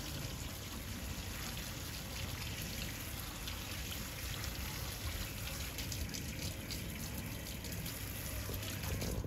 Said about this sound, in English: Just run that under a cold tap.